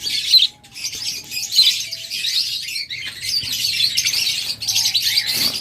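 Caged pet birds, lovebirds, budgerigars or cockatiels sold in pairs, chirp and tweet in a steady, busy chatter of high calls, close and fairly loud, with no talk.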